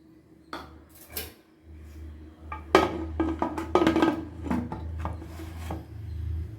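Mutton biryani being stirred in a pressure cooker, a metal spoon scraping and knocking against the pot in irregular bursts, louder in the second half, with no talking.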